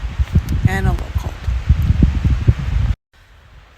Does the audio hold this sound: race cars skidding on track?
no